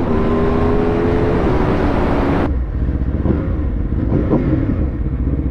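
An Aprilia RSV4 RR superbike engine pulls hard under acceleration, its loud, steady roar holding throughout and dropping in pitch and brightness halfway as the revs fall or the gear changes, close and with no voices.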